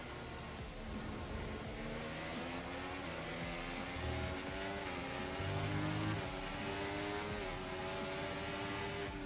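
An F1 race car in a racing video game under engine braking, its engine droning and shifting pitch in a dense, continuous whine with rising and falling harmonics throughout, and no voices.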